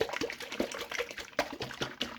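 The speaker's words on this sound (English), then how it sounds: "we're going to shake this up vigorously and combine it all" A capped jar holding liquid and honey is shaken vigorously, producing quick irregular sloshing and knocking bursts, close and fairly loud.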